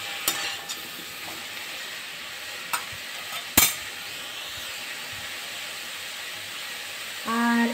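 Arum stalks frying in a pan with salt and turmeric, a continuous close hiss of sizzling oil broken by a few sharp clinks of stirring, with a brief tonal sound at the very end.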